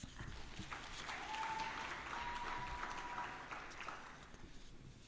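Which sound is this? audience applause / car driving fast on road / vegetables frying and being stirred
audience applause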